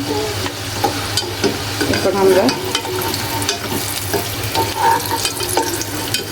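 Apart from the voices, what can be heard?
donuts frying in oil in a mini kitchen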